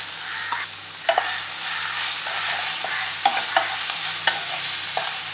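Onions sautéing in a pan with dry red chillies and garlic give a loud, constant close sizzle, broken by occasional clinks and scrapes of a spoon stirring, without any talking.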